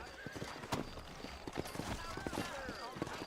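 Steady clip-clopping hooves with a horse neighing, set against a busy outdoor background and occasional voices, from the video game Red Dead Redemption.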